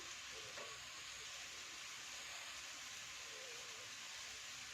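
Tomatoes cooking in a pan for kovakeerai chutney produce a soft, continuous frying hiss, fairly quiet and even throughout, with faint stirring.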